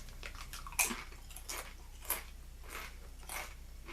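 Close, loud crunching as someone bites into Lay's Crunch Tators potato chips, about five sharp crisp bites spaced through a few seconds with softer chewing between them and no talking.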